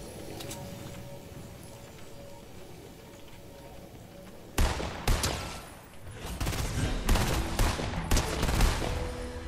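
Gunfire in the video game Fortnite near Tilted Towers: a quiet stretch, then a sudden loud shot followed by rapid bursts of repeated shots continuing to the end.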